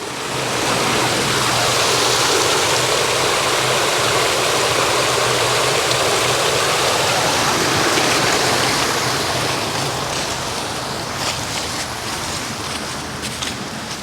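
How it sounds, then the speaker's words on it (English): A woodland waterfall and stream near the coastline at Portavadie on the Kyles of Bute rush steadily and fairly loudly, fading slightly toward the end. "Well, it sounds like there's a waterfall."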